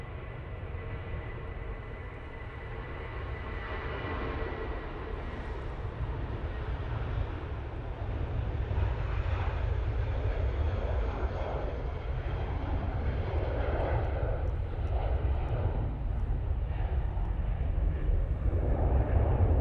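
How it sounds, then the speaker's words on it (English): Airliner departing Manchester Airport for London Heathrow, a broad steady engine roar heard from a distance that slowly swells louder across the stretch. "Nige now going off to London Heathrow."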